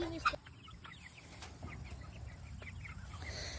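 Soft, faint clucking from a few chickens, scattered short calls over quiet background hiss.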